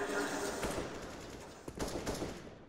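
AK rifle fire in a Counter-Strike match, a few clustered bursts of shots that are moderately faint, mixed under a commentator's continuous talk.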